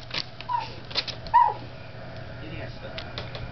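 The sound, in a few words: person imitating a dog's sound in a puppet show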